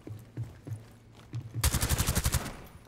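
Rapid automatic gunfire from the video game Rainbow Six Siege bursts out loud after a few softer thuds, a fast steady string of shots lasting about a second.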